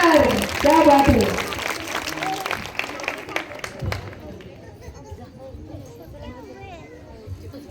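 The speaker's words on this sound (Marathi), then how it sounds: "टाळ्या वाजवायचा जोरदार" An audience at a Chhatrapati Shivaji Maharaj program claps together, the patter starting loud under a speaking voice and gradually thinning and fading away.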